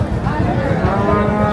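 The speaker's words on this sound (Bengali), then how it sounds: "দেখছি আমরা এখানে ষাঁড় গরু।" A bull at a cattle market lets out a long, loud, close moo that fills the whole moment, with a rough, throaty drone.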